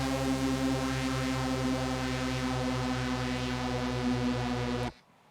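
A sustained synth tone runs through a bandpass filter with high resonance, giving a buzzy, horn-like drone with a gently pulsing throb, loud and steady, then cutting off abruptly near the end.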